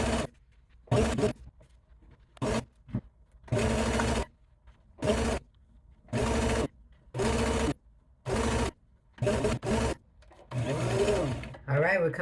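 Sewing machine stitching tutu anklets in repeated short bursts of rapid whirring, each lasting about a second or so, separated by brief pauses, close and loud, with a short stretch of talking near the end.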